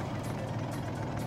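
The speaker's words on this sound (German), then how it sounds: "So, Motor ist an." A sailboat's engine idles steadily at close range, a continuous low rumble with an even, unbroken hum and no talk over it.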